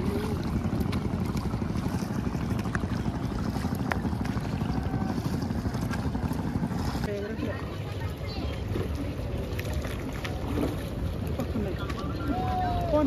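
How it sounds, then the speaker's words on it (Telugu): Boat ride on the river at Triveni Sangam during the 2025 Maha Kumbh Mela in Prayagraj, with a steady broadband rumble of engine and water running throughout and people talking over it nearby. "సో ఫైనలీ మేమైతే త్రివేణి సంఘంలో బోట్లో వెళ్తున్నాం."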